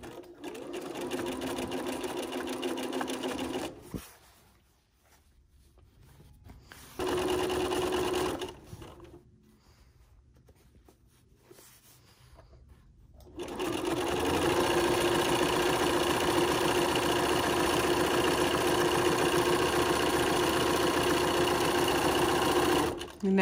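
A sewing machine stitching fabric for a storage box runs in loud, steady whirring bursts, stops briefly twice, then resumes for a long continuous run, with a voice speaking in the quiet gaps.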